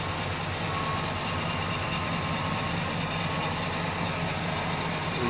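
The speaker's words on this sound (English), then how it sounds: "Engine idles nice and smooth." A 1969 Pontiac LeMans engine idles steadily and smoothly, a constant low rumble with faint mechanical whir from the spinning compressor, no other sounds.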